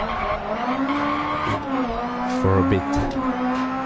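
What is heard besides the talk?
rally cars racing in the video game DiRT Rally rallycross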